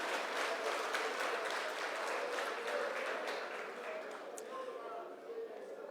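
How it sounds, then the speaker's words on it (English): An audience at a skill competition closing ceremony gives a sustained round of applause, dense clapping that stays fairly even and fades slightly toward the end. "So please give yourselves a warm round of applause for each and every skill that you're representing."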